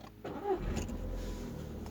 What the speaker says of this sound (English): put the car in neutral like this, then press the clutch and then start the car.